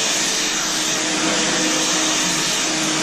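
Loud, steady roar of a hair blower drying dyed hair, close and continuous without pause.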